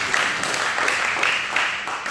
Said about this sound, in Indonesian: beri tepuk tangan dulu yang meriah.